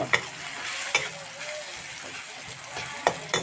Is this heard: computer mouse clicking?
no